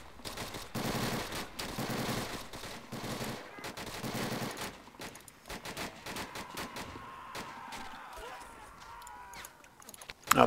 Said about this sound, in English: those MG towers are tearing these guys apart